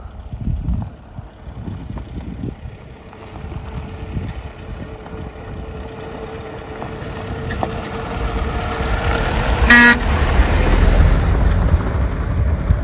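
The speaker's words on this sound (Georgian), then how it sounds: "ეგერ სოფლიდან მოდის ორი მანქანა" Two cars come along a rural road from the village of Takhcha in Javakheti, Georgia. Engine rumble swells gradually under gusty wind noise, and one short horn honk sounds near the end.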